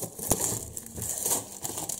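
Plastic packaging crinkles and crackles close up as a trading card deck box is opened by hand, a soft irregular rustling with a few sharper crackles and no talking.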